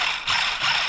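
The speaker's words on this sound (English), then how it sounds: "A little blip of that throttle and we're operational." The electric motor of a 1/10 scale 4WD rally car kit gives a quick throttle blip, a short whirring, buzzy rise that pulses twice within a second, loud and close.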